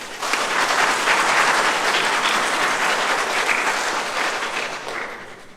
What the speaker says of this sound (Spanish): Para você aplauso.